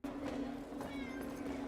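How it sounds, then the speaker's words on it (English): Cats meow indoors in a brief, steady cry with a sustained tone, moderately loud and close, with no talk over it. "Oh, the cats."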